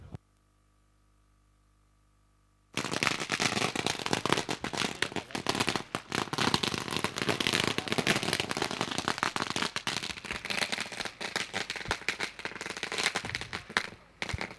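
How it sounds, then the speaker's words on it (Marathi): After a couple of seconds of near silence, firecrackers erupt at a cricket tournament welcome in a dense, continuous crackling barrage of sharp pops that carries on throughout. "फटाक्यांच्या आतिषबाजीमध्ये पाहुण्यांचं स्वागत या ठिकाणी संपन्न होतोय."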